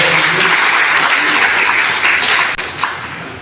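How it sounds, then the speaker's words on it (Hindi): Sustained applause from an audience at a Doctor's Day event fills the whole stretch, dense and even, fading slightly near the end. "एक बार सभी जोरदार तालियों से उनका स्वागत कीजिए।"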